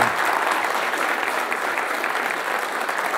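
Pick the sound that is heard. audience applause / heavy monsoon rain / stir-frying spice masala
audience applause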